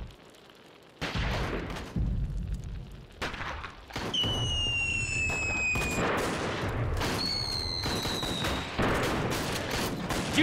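Gunfire from a battle scene in a war film about Japanese troops entering a village and guerrillas fighting back, with bursts of shots, whistling streaks and sustained loud crackling under a dense, continuous battle din.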